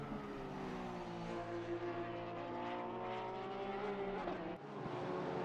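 Engine of a Porsche GT3 race car in a sim racing game at Brands Hatch, a steady loud high-pitched drone with a brief dip near the end.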